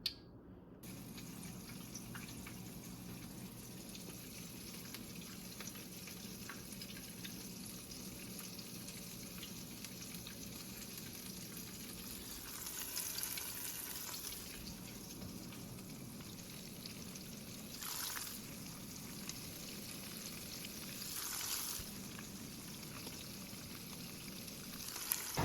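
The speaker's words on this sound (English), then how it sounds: "So we got the grease popping now." Northern pike fillets in Cajun Shore Lunch breading deep frying in popping grease, a steady close sizzle and crackle running throughout with a few brief louder bursts, no talking.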